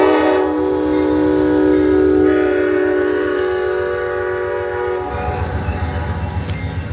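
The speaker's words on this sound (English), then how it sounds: "A nighttime video of the Amtrak Borealis Train." Amtrak Borealis passenger train passing at night in Red Wing, its horn blowing a long sustained chord that swells loud and near, then gives way to rumbling wheels and rail noise.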